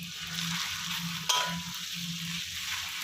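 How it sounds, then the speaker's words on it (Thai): Red curry paste and crispy fried catfish stir-fried in a pan for a Thai spicy dish, a continuous close sizzle with scraping stirs and one sharp utensil clink near the middle. "ผัดให้มันหอมๆนะครับ ผัดคลุกเข้าไปเรื่อยๆนะครับผม"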